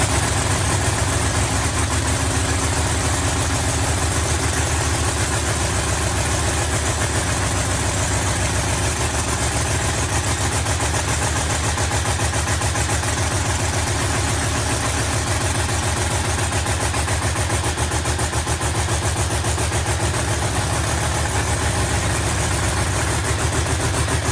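A Pro Mod drag race car engine idles at the U.S. Street Nationals, a loud, steady, close rumble that holds unbroken for the whole stretch, with no voices over it.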